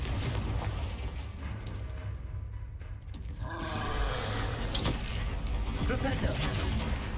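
Confringo fire spell blasts in Hogwarts Legacy, bursts and booming impacts with crackling debris over a dense, loud battle din, no talk.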